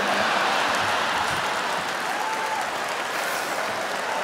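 Steady crowd applause rolls through a Jeff Dunham ventriloquist comedy show in Hollywood, a dense wash of clapping that holds evenly and eases slightly toward the end.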